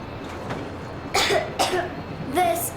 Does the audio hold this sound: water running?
no